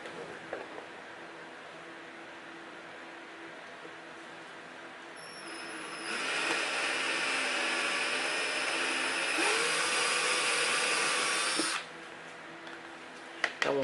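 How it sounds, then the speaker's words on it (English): A power drill with a 1/4 inch taper bit bores a hole while fitting aero splitters on a BMW i8, running as a steady whine for about six seconds after a quieter lead-in, then stopping. "Next, we'll take our 1/4 inch taper bit, it's the second notch here, and make a 1/4 inch hole."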